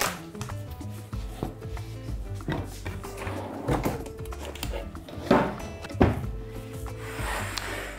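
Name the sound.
chopping cauliflower on a cutting board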